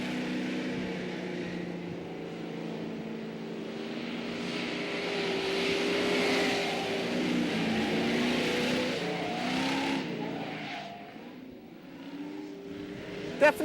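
A muscle car weaves through a slalom of cones, its engine droning steadily and rising and falling as the driver throttle-steers a tail that wants to step out, heard continuously from a moderate distance.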